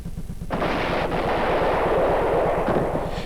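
A cannon fires a cannonball with a sudden loud boom, followed by a sustained rumbling roar that stays heavy and dense before tapering off.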